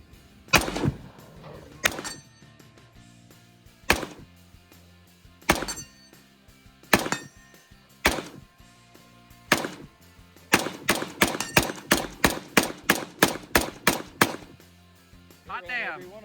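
Type 56 SKS rifle fitted with a 20-round Star magazine firing outdoors: single sharp, loud shots spaced a second or two apart, then a fast string of about a dozen shots, with voices speaking around them.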